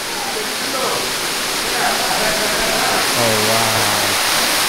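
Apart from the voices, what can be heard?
waterfall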